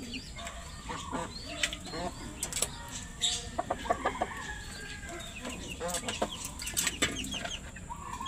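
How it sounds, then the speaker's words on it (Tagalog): Pet chickens clucking in a yard, several birds giving repeated short clucks and chirps at a moderate distance over steady outdoor background noise, with a brief faint crow among them. "Ito naman po yung mga alaga nating manok, oh."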